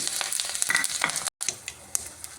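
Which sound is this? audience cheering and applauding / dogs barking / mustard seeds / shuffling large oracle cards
mustard seeds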